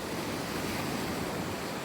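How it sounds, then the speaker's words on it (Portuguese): Sea waves wash onto a beach during light rain, a steady, even roar of surf and hiss with no distinct breaks, fairly soft and continuous throughout. "você vai ouvir bastante barulho de mar"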